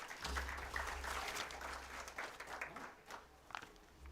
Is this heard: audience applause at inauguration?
yes